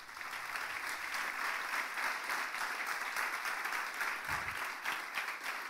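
A church congregation claps steadily, a dense and even wash of hands from many people that carries on without a break for several seconds, sounding slightly distant.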